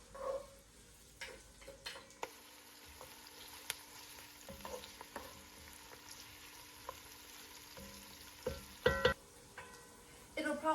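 Onions frying in melted butter over medium-high heat for a carrot and sweet potato soup, a soft steady sizzle with occasional utensil clicks and stirring scrapes, faint and close.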